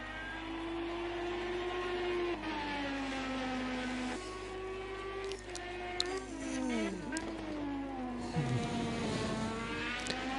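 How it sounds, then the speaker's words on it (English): A Honda IndyCar engine races at the Indianapolis road course in the video game Project Cars 2, a sustained high-pitched engine whine rising and falling through gear changes, with a low steady hum underneath. "So here that Honda engine push hard,"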